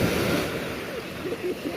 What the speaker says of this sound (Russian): Волны вот какие, смотрите